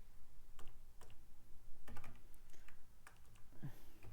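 Computer keyboard typing an Excel formula, with a scatter of crisp, close keystrokes in uneven bursts and short pauses, and no voices.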